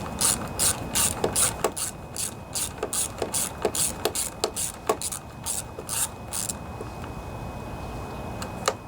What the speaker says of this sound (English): So you have two bolts on each side. This is my 10mm socket.